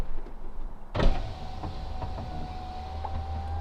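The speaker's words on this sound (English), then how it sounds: "Let me open the windows in the car." Power window motors whir steadily in a BMW 335is, starting with a soft click and a brief thump, then a sustained electric hum that runs close and fairly loud to the end.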